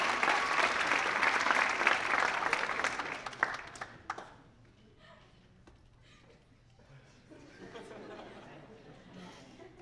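Audience applause at a school staff dance show fills the room loudly for about four seconds with some crowd chatter, then fades to a quiet murmur of the audience.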